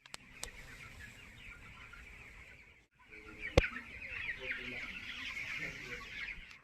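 Chickens cluck in a shaded poultry shed on a farm near Pune, a close, busy flock with overlapping clucks and a few sharp louder calls, while faint background murmur runs underneath.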